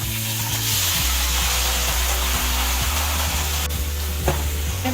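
Paneer and Kashmiri chilli sizzle steadily in hot cooking oil in a pan, a continuous close frying hiss with a low hum underneath and a few soft stirring knocks, no talking.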